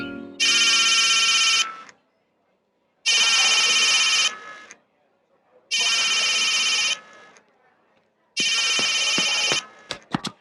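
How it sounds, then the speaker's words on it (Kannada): A telephone in a movie scene rings in four loud, evenly spaced electronic bursts, each over a second long with silent gaps, followed by brief clicks. "ಫೋನ್ ರಿಂಗ್ ಆಗ್ತಾ ಇದೆ."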